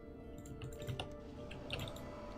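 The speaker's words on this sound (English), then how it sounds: "Love the sound of your keyboard." Quiet, rapid clicking of a computer keyboard being typed on, with irregular keystrokes close to the microphone over faint background hum.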